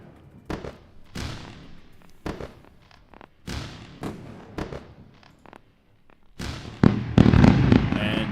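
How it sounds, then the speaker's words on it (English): Fireworks pop and boom in a series of sharp bangs with crackling tails, building to a dense, loud crackling volley at the end. "Let's go for a round of fireworks from Premium Alex Crypto."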